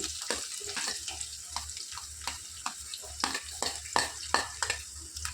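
Thinly sliced onions frying in hot oil for a bhindi curry, a steady soft sizzle broken by repeated scraping stirs of a spatula against the pan, fairly quiet and close, with no voice.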